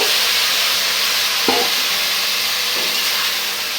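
Ginger-garlic spice paste sautés in a pan with a steady broadband sizzle and hiss. Two brief stirring scrapes cut through the sizzle, one near the middle and one toward the end. No one speaks.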